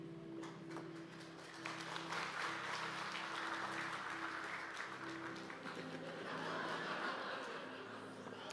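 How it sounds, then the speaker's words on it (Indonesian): A church congregation applauds through a sermon, steady clapping mixed with some laughter, with a low sustained hum underneath, moderately loud and continuous throughout. "nah tepuk tangannya pendek"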